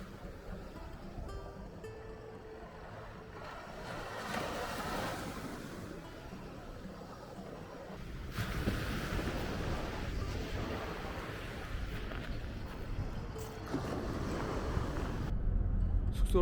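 Ocean surf washes onto a beach at Tampa, Florida, where sanderlings feed at the water's edge. A steady hiss of breaking water and wind swells louder about halfway through, with no one talking.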